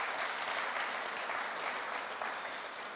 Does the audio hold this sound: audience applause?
yes